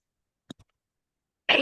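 A person with a cold coughs a couple of short, faint times, followed by a brief louder burst of noise close to the microphone in an otherwise quiet room.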